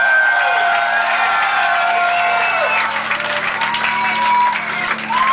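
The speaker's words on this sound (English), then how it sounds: "yourselves a round of applause" Concert crowd in San Diego applauding and cheering after a show, a dense sustained roar of clapping with whoops and shouts rising over it, loud and close throughout.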